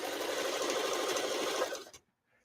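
A home sewing machine, used daily for sewing, runs steadily and loudly at close range for about two seconds, then stops abruptly, leaving near silence.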